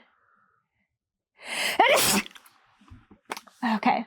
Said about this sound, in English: Oh God, I think I'm gonna sneeze.